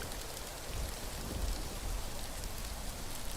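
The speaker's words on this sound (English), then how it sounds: "we got to get out of the rain" Steady rain falls in the survival video game Rising World, a dense, even hiss of drops patters on surfaces without a break, at moderate level and with no voices.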